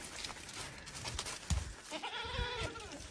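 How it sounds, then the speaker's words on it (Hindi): A bearded goat bleats once, a wavering nasal cry near the end, close by amid rustling and handling noise, with no clear speech. "आ दाढ़ी वाली बकरी मौजूद है जी"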